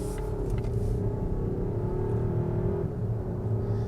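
2025.5 Volvo XC90 hybrid accelerating, a low steady engine and road rumble with a faint rising whir from inside the cabin, quiet and continuous, no voices.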